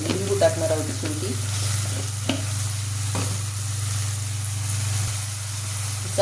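Onion, tomato and spices sauté in a pan for mint tempered rice, a soft steady sizzle with scattered scrapes and taps of a spoon stirring, over a constant low hum, close by and without speech.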